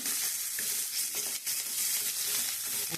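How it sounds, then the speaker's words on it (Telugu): Red chillies and onions sizzle in a hot pan, a loud, steady frying hiss that runs through the whole clip without a break. No voices are heard. "ఎర్రగా కావాలని వేస్తాను అన్నమాట ఫస్ట్ మిరపకాయలు కొద్దిగా ఉల్లిగడ్డలు కొద్దిగా వేడాలి"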